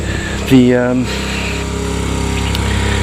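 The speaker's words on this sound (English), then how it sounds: "I got El China Quad started" A Baja 90cc quad bike engine with a bad CDI idles with a steady, low mechanical drone; a voice speaks briefly over it near the start.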